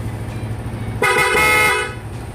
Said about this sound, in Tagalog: Ito yung loud horn.